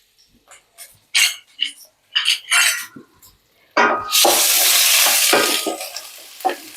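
Chopped large onion and a sprig of curry leaves hitting hot oil with mustard seeds, bursting into a loud, steady sizzle after a few seconds of scattered clatter and talk.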